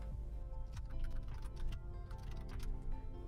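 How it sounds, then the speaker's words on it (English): Steady typing on a computer keyboard, a continuous close patter of key clicks over a low hum, with no talking. "you have to type that here"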